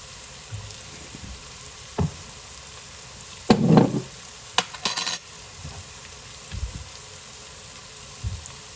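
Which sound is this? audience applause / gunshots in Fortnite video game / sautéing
sautéing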